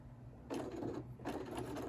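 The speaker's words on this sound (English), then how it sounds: "so we will just kind of pull this a little bit more over and then just sew out in the seam" A sewing machine stitches a seam in fabric in two short bursts of rapid mechanical whirring, separated by a brief pause, quiet and close.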